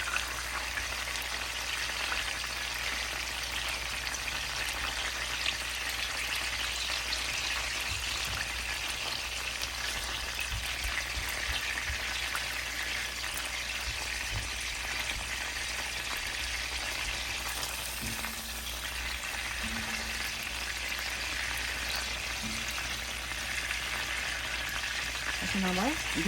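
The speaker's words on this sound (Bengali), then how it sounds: "এভাবে উল্টিয়ে পাল্টিয়ে তারপরে এটাকে ভেজে নিতে হবে" Stuffed pointed gourd (potol) filled with minced prawn frying in oil in a pan, a dense, steady sizzle that runs throughout with faint occasional scraping as the pieces are turned.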